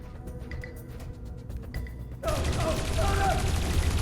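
Gunfire from guards in the video game Dreamfall Chapters: a sudden dense burst of rapid shots erupts midway and continues loud to the end, after a quieter stretch of ambient game sound.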